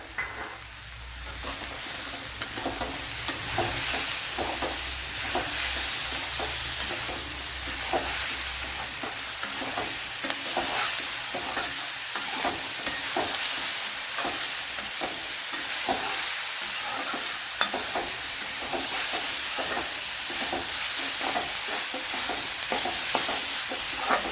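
Tomato being stirred into bitter gourd curry frying in a pan, with a steady close sizzle and repeated scraping and stirring strokes throughout, no voices.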